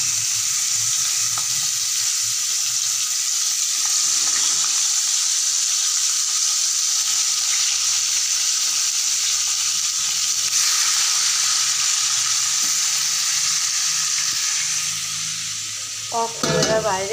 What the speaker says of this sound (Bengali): এবারে মাংসটাকে একটু ভেজে নেব।